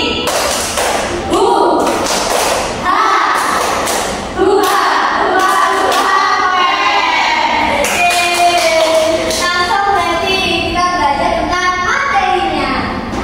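A grade 5 class in a simulated science lesson performs the 'tepuk semangat velocity' clapping chant, with loud, dense, rhythmic hand claps and children's voices chanting together at close range.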